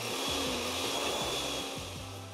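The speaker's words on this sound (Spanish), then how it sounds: "Ahora sí, vamos a licuar." Continuous loud whir of a blender mixing oats and milk for hot cakes, a steady motor drone with slight pulsing and no talk.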